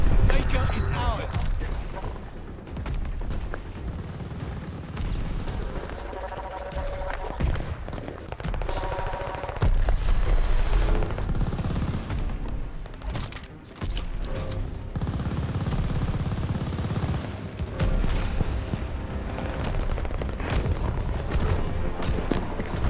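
Mortar shells and gunfire in Call of Duty: Vanguard, Team Deathmatch on the Casablanca map, with repeated booming blasts and rapid shots that keep up steadily for over twenty seconds under the player's voices.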